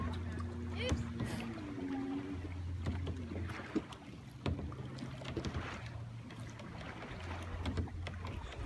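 A kayak moves across open water outdoors while someone is pushed along, with soft splashing and water noise under wind buffeting and occasional bumps; voices talk intermittently over it.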